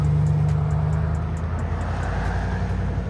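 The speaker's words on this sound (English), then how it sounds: "You guys just saw the clip of the Avalanche leaving." Chevrolet Avalanche Z71 pickup truck driving away, a steady engine and road rumble with a low hum that fades slightly as it pulls off, no voices.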